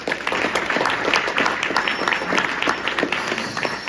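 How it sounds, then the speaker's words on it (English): An audience at a booster-group pre-game event gives a speaker a round of applause, steady dense clapping from many hands throughout, fairly close with a lively room sound. "a round of applause"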